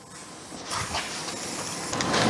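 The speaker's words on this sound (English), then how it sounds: "Let's now start applying some WD-40." WD-40 sprays from an aerosol can onto the cylinder walls of a Mazda MX5 engine block, a steady close hiss lasting a couple of seconds with short bursts and slight rises as the spray continues.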